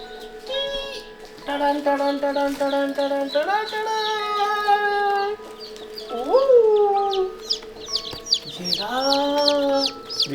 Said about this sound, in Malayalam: പി പി പി പി എന്നും പറഞ്ഞുകൊണ്ട് സൗണ്ട് ഇവിടെ കേട്ട് തുടങ്ങി.